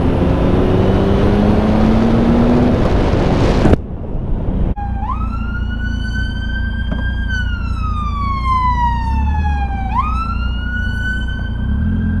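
A loud ambulance siren wails with rising and falling pitch sweeps, close by, over a low engine rumble and heavy background noise at the start.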